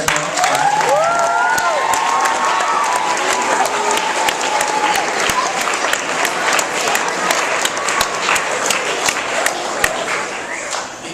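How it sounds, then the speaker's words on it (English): An audience in a school gathering applauds and cheers for the basketball team, a sustained, loud wash of clapping with a few whoops and shouts rising through it for over ten seconds. "let's cheer on the basketball team"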